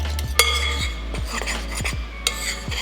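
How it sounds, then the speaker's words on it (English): A spoon mixes ingredients in a bowl for peanut butter cookie dough, giving a run of light scraping strokes and small clinks against the bowl, close and clear with no talking. "I'm just gonna take a spoon, not anything crazy, and mix it."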